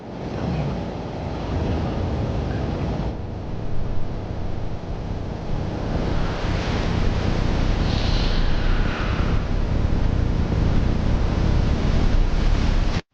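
Heavy surf roars continuously, a broad wash of crashing waves with gusty wind noise, loud and close, building slightly toward the end.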